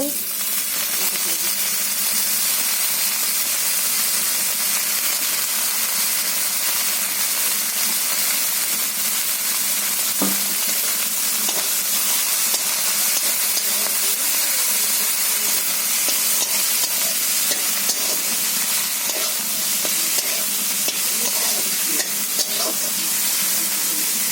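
Washed gime greens frying and being stirred in a pan, a steady close sizzle and hiss with scraping of the stirring utensil running throughout, alone without talk.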